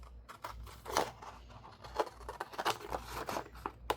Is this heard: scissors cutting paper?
yes